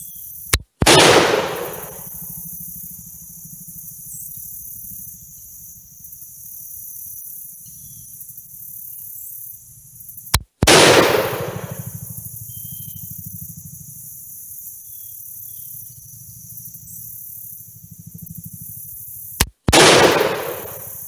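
Three sharp gunshots from a French MAS 49-56 rifle at a shooting range, spaced roughly ten seconds apart, each a loud close crack with a brief ringing tail, and faint background hiss between.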